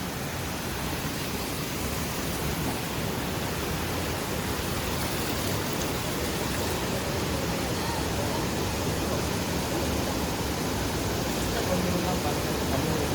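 A full river flows steadily while a light drizzle falls, producing a dense, continuous rushing wash of water that stays loud and even throughout, with no voices standing out.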